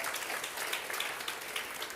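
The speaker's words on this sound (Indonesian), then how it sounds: "Boleh kita berikan tepuk tangan?" Church congregation applauding during a sermon, a steady wash of many hands clapping at moderate distance, fairly quiet and continuous with no voices over it.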